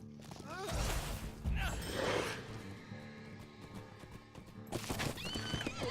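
Horse whinnying in the video game The Lord of the Rings Online, Snows of Wildermore, a couple of loud neighs near the start and again near the end over a busy game backdrop.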